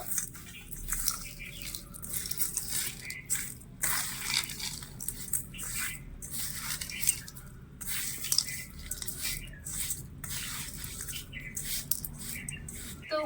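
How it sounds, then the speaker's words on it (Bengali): A cup of sugar is stirred into watermelon pieces in a bowl, producing soft, wet, squelchy mixing sounds that carry on irregularly and quietly throughout. "তরমুজের টুকরোর মধ্যে দিয়ে দিচ্ছি এক কাপ চিনি মানে দুশো গ্রামের মতন ভালো করে নেড়ে ছেড়ে একটু মিশিয়ে নেবো"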